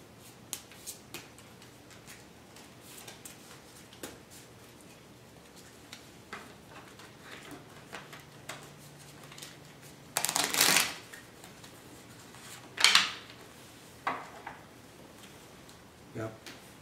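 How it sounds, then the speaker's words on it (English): Deck of KickShot game cards being shuffled, heard as two short, crisp riffling bursts midway, with small taps and card handling around them and soft talking in the background. "Shuffle them."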